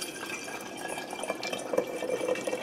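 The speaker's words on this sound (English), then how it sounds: "carefully pour the rose water" Homemade rose water is poured through a strainer, a thin, trickling stream of liquid splashing gently and steadily into a container, close by and moderately quiet.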